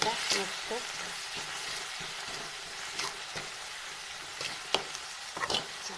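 Bell peppers with turmeric, chili and salt fry in a pan, a constant close sizzle with scattered scraping knocks from a spoon stirring them, no speech over it.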